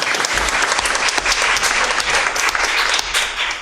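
Loud, dense clapping from the audience at a Board of Education meeting, honouring a high school high jump state champion, sustained steadily across the whole stretch.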